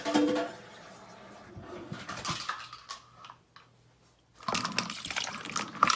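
Water poured into a measuring cup in a kitchen while making homemade dog treats, with intermittent splashing and trickling bursts separated by quiet pauses.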